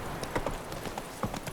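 Roach, Geralt's horse in The Witcher 3, gallops with quick clip-clopping hoofbeats in an uneven rhythm, close and fairly clear over a low background.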